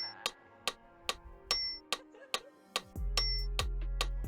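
Metronome app clicks in a steady count of four, with a brighter ding marking each first beat, then a low droning tone enters under the final clicks; no one speaks.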